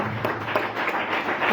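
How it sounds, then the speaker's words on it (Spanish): Brief, steady burst of clapping from a church congregation after a prayer, dense and moderately loud for the whole moment with no talk over it. "Ahora sí le damos un fuerte aplauso al Señor"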